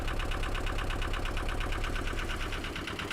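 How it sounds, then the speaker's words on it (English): A struggling, smoking canal boat engine chugs steadily against the current with a rapid, even knocking pulse, running close and loud throughout with no voices. "I'm just going to slow right down because my engine's having problems."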